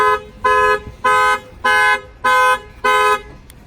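The alarm on a Mercedes GLC43, set off by a shock sensor, sounds in Miami, Florida: six loud, evenly spaced electronic tones, each lasting about half a second with short gaps between them, close to the listener.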